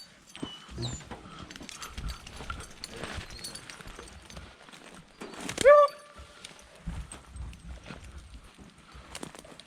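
Quick pattering of running hunting dog paws sweeping past close by during a deer drive in Alabama, with brief yelps, rustling, and scattered movement noise throughout.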